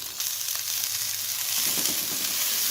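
Spice paste sizzles in a hot pan for stir-fried velvetleaf with anchovies and stink beans, a steady frying hiss that grows slightly louder and crackles more densely toward the end, with no talking.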